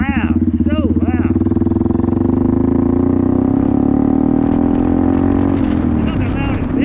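Honda Grom motorcycle fitted with a loud aftermarket exhaust, a close, steady droning engine note that climbs slightly in pitch as it rides, with a person talking over it.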